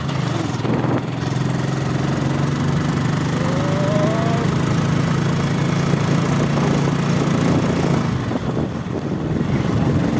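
A small low-cc motorbike rides along a village road, its engine droning steadily and close throughout, with a faint whine rising briefly partway through and no talking.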